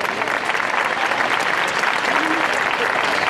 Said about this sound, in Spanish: Un aplauso también para ella.